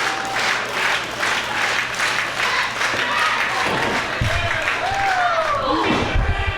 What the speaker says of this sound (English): The crowd getting behind Santana here.